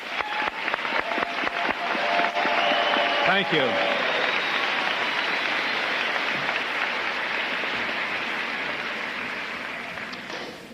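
Sustained applause from a large crowd at a 1986 college commencement at Fredonia fills the clip, steady and broad, with a brief spoken thanks near the start.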